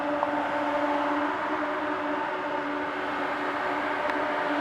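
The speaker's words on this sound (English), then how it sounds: "You guys can hear the E-fans are on." Electric radiator cooling fans on a Nissan 240SX running with the car stationary, a steady whirring hum with a constant tone that stays even and moderately loud throughout, with no talking.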